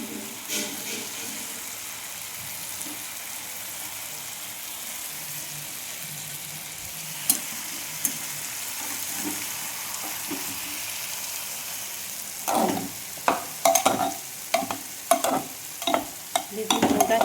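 Spices sizzle softly in a pan for Bengali khichdi, a low steady frying hiss, then cooked rice is stirred in with a run of sharp scraping and clanking strokes near the end.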